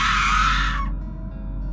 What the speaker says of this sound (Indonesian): suara tawa melengking tadi tiba-tiba berubah menjadi jeritan histeris yang menyeramkan